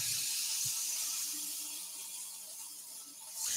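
Ecopoxy resin and twig bowl sanded with 400 grit sandpaper, a steady close high hiss that fades slightly and then swells again near the end, with no talking.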